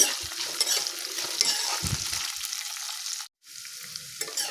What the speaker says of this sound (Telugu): 2 ఉల్లిపాయలు, కొంచెం కరివేపాకు కట్ చేసుకొని ఉల్లిపాయలని లైట్గా పచ్చివాసన పోయేదాకా వేపుకుందాము.